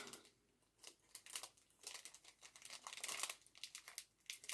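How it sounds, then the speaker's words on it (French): Plastic wrapping on a SHEIN clothing haul package crinkles and tears in irregular bursts as it is pulled open, close and fairly soft, with no talking. "Je vais vous montrer ça, si j'arrive à ouvrir le paquet."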